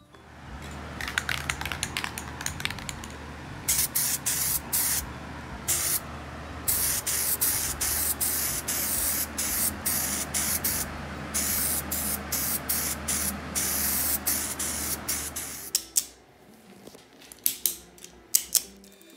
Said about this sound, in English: Just gonna paint it.